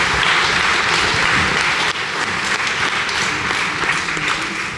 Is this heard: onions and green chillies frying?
no